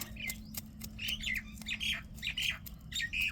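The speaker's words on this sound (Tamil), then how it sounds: "கிளி கத்தல மைனா தான் கத்திக்கிட்டு இருக்காங்க." A myna calls repeatedly with harsh squawks and chirps, moderately faint over a low steady hum, with no voices.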